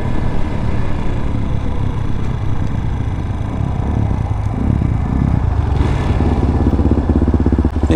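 A 2022 Peacesports Brozz Recon 250 motorcycle engine while riding, a loud continuous close-up buzzing drone with rough, slightly uneven firing and wind rush, no voices.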